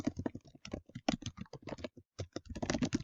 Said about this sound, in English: I'm going to hit that tab button, and I'm going to just start typing